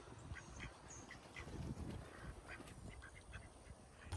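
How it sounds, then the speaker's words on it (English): Ducks quacking near a farm pond, a scattered run of short quacks at moderate distance over a steady outdoor background hiss. "I've been trying to get the ducks over to the pond"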